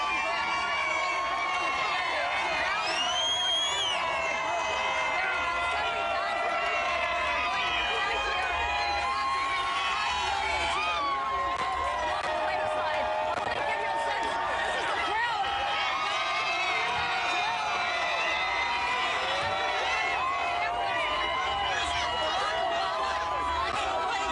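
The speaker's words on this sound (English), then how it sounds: "Suzanne, you got a crowd over there. These are pretty excited folks." A dense, excited crowd at an election night rally cheers and whoops continuously, loud and close, with shouting voices rising and falling over a constant roar of chatter.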